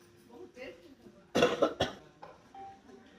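A person coughs a few times in a quick, harsh burst, close by, with faint speech before and after.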